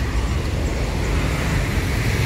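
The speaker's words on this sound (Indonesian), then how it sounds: "Lalu lintas padat di lintas timur ini." Dense road traffic on the eastern Sumatra route, with many large vehicles including buses and trucks, producing a continuous loud engine and tyre rumble close by with no pauses.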